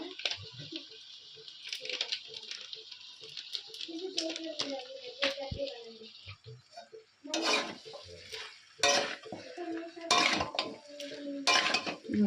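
Mutton is stirred and sautéed with meat masala in a pot, with repeated metallic scrapes and clinks of a spoon against the pot, louder bursts toward the end, and a faint sizzle underneath.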